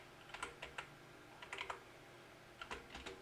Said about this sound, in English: now we just type here